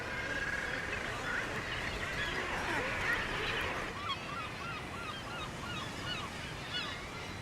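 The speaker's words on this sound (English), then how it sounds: "Each summer, these sheer cliffs become home to almost 1 million birds, who make their way here to breed." A huge breeding seabird colony on sheer summer sea cliffs, nearly a million birds, fills the air with dense overlapping calls and squawks, a constant loud wash of chatter with surf-like noise beneath.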